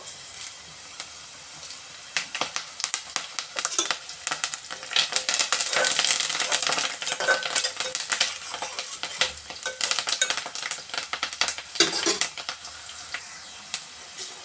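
Tempering spices and curry leaves fry in hot oil in a pan for a homegrown spiny gourd (boda kakara) curry, with a continuous crackling sizzle that swells as they are stirred, close by with no talking.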